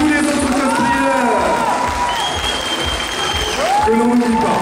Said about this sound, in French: un tonnerre d'applaudissements à tous les autres cosplayers